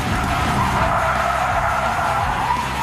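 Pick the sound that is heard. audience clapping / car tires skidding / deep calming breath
car tires skidding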